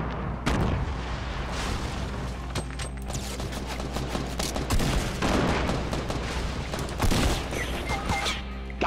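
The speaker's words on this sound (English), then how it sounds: "I'm throwing grenades on him!" Grenades exploding in Fortnite Battle Royale, heavy booming blasts and dense gunfire layered in a loud, continuous battle din with no clear talk.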